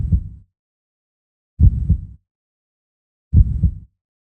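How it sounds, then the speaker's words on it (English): Heartbeat sound effect: three deep, muffled thumps spaced about every 1.7 seconds, each a doubled low pulse, alone against silence. "a silence punctuated only by the distant, rhythmic beating sound of my own heart."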